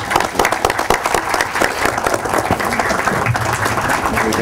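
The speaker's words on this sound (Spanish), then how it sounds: "me gustaría que todos los asistentes podamos despedirlo al señor ministro con un aplauso" An audience at a civil defence committee meeting in a park gives a minister a farewell round of applause, dense continuous clapping from a crowd heard close and fairly loud throughout.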